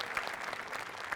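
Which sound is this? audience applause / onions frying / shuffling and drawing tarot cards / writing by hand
audience applause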